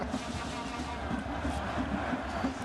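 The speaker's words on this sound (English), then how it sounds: "You can hear the home crowd, well, the away crowd really. It's so confusing. They're cheering on the goal." A football crowd at a Sierra Leone versus Côte d'Ivoire match cheers a goal as a distant, sustained roar of massed voices. It stays steady and moderately faint with no clear peaks.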